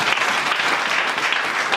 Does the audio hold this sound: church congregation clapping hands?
yes